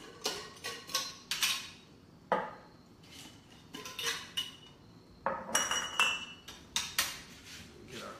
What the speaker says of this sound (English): Mason jars.